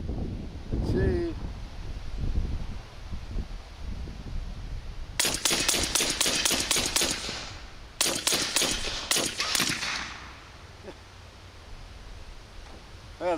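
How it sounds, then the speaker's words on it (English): A .45 pistol fires rapid strings of shots at a steel plate target outdoors at 55 yards, sharp cracks in two clusters over several seconds amid wind noise, with faint metallic ringing between bursts. "the target fell over from the bullets recoiling off the steel plate"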